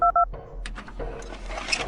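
Telephone keypad tones from the Five Nights at Candy's horror game: two crisp dialing beeps in quick succession, followed by quieter clicks and ambient in-game noise.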